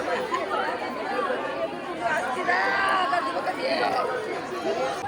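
Dense crowd chatter and hubbub fill a busy village fair (jatra) in Dapoli, a steady babble of many voices milling close by for the whole stretch.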